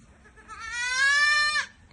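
A single drawn-out bleat from an Alpine goat, a second-time mother kept for sale on a farm, sounding close and loud for about a second before cutting off cleanly, with no voices around it.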